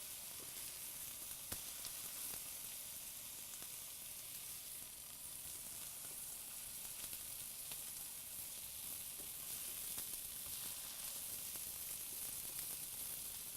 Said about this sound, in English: we're going to give our turkey patties a flip